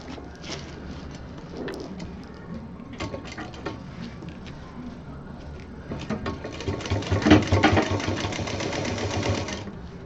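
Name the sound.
sewing machine stitching piping on a cosmetic box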